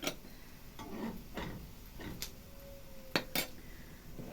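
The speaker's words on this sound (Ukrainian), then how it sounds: "Привичка обстукувати ложкою, хоча говорять, що не потрібно цього робити." A metal spoon knocks against the rim of a pot of borscht a few times, light sharp taps scattered over a quiet kitchen background.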